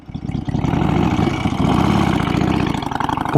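A custom Harley-Davidson FXR Knucklehead V-twin fitted with adapted Shovelhead pipes runs loud and close. Its lumpy, throbbing engine note rises slightly as it revs, with no talk over it.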